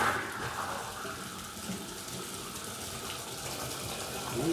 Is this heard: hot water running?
yes